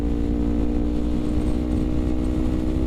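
A Kawasaki Ninja 250R motorcycle being ridden, its engine droning loud and steady at a sustained pitch with rough buzzing texture and no break.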